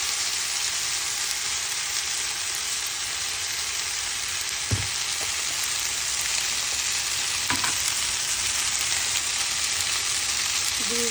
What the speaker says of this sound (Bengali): আমি একটু ভেজে নেব।